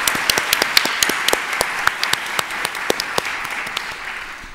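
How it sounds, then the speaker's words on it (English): Audience applause welcoming a panel at an ex-Muslim event, a steady wash of many hands clapping with distinct sharp claps standing out, sustained at moderate volume throughout. "So please can we all give a big round of applause to our next panel."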